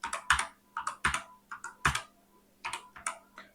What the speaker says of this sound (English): Let's type some text.